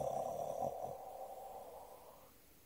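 One long audible exhale during a Taoist-inspired guided meditation, a soft, close breathy tone that starts firm and gradually fades away over a couple of seconds, with nothing else heard.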